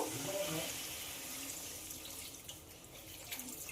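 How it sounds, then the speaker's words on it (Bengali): Water streams steadily into a pan of well-fried fish curry masala, a soft continuous pouring hiss with faint splashes, quiet and close. "এবার এতে পরিমাণ মতো জল দিয়ে দেব"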